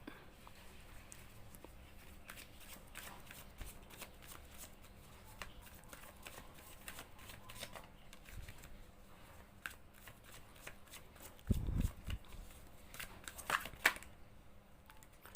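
Tarot cards being shuffled by hand make quiet, intermittent riffling clicks and soft slaps, growing into a louder flurry near the end, with no talking.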